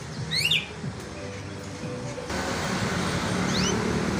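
Canaries chirping at a bird shop kiosk, quick bright upward-sweeping chirps in short bursts near the start and again later, fairly faint over a constant background of traffic and shop noise.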